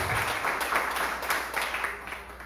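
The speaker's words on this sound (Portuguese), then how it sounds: "Uma salva de palmas para Jesus." A church congregation claps in sustained, fairly loud applause during a service, rhythmic hand claps filling the space with little else over it.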